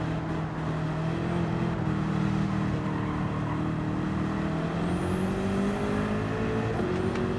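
A Gran Turismo 7 race car on a damp track drones with a steady engine note that shifts in pitch as it slows for braking, loud and continuous with no talk.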